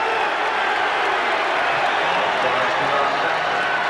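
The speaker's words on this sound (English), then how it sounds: "The crowd likes that one." A basketball arena crowd at a 1984 NBA game roars steadily after a foul, a broad, sustained wash of cheering and noise with no clear breaks, heard at a distance under faint commentary.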